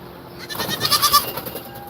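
A healthy, fat goat at a farm animal sanctuary gives a short, loud, wavering bleat close by, with no talking.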